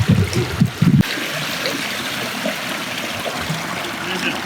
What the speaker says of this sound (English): So basically we're pumping water right out of the pond.